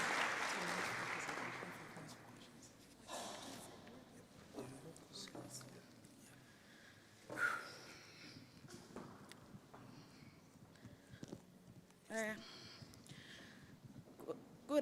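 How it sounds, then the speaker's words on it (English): Audience applause fills an annual research day hall as the next presenter heads to the stage, a loud burst at first that fades into scattered claps, shuffling steps and light crowd noise. "we can clap once more as she rides towards the stage"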